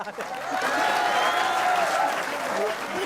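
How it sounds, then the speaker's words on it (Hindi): A crowd at a Hindi comedy poetry event breaks into steady, dense applause, sustained and fairly loud from start to finish. "ताली बजाओ।"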